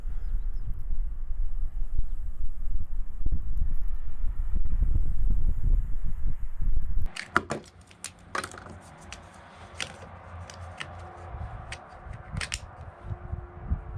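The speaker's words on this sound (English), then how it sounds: "Pretty much gusting at 10 to 12 miles an hour and sustained" Gusting wind at an outdoor shooting range buffets the microphone with loud, low rumbling for about seven seconds, then drops away, leaving quieter background with scattered sharp clicks and handling knocks.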